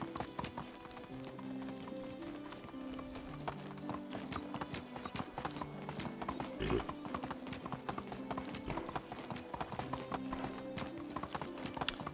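Horse hooves gallop in Medieval Dynasty, a fast, even clip-clop beat running close and prominent for the whole stretch, with a single sharper knock midway.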